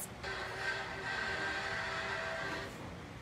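Faint, steady rumble of the Polar Express train, a low continuous rolling hum with a soft whistle-like tone, lasting a few seconds.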